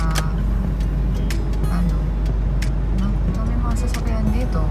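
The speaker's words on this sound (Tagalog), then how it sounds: "may mga sasakyan dito" Dense traffic of cars with a motorbike on a busy street in Cavite City, a constant loud engine rumble with passing hiss and clicks throughout.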